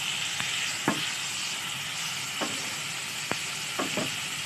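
Pangasius adobo sizzling steadily in a hot pan, a continuous frying hiss broken by a few sharp utensil knocks and scrapes.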